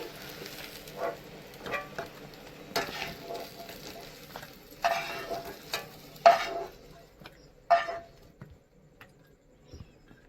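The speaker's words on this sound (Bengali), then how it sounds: "বেগুনটাও আমি হালকা লাল করে ভেজে নেব।" Eggplant frying in oil in a pan, a low sizzle broken by intermittent stirring scrapes and bursts of spattering, with quiet gaps between.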